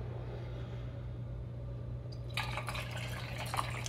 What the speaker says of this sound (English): So I'm gonna pour this in and start the stopwatch as soon as it's full.